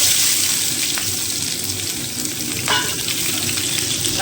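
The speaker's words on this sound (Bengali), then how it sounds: "পেঁয়াজগুলো একটু ভালো করে ভেজে নেবো।" Chopped onions and dried red chillies fry in hot oil in a pan, giving a loud, continuous close-up sizzle with occasional stirring.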